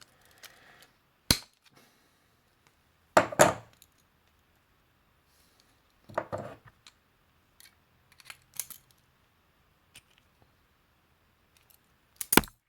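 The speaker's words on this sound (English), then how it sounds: "I'm just going to take a side cutters and I'm just going to try to rip this thing out of here." Side cutters gripping and ripping a wax motor out of a thermostat oil sandwich plate, sharp isolated metallic snaps and clicks in sparse bursts separated by near silence.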